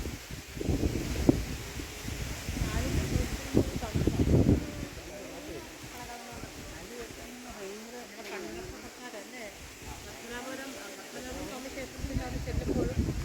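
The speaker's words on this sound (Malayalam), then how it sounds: "കാറ്റ്, എന്തൊരു കാറ്റല്ലേ." Strong wind gusting outdoors beside a river in Punakha, Bhutan, before a rafting trip, roaring in heavy low buffets over the first few seconds and easing to a steadier rush, with people talking throughout.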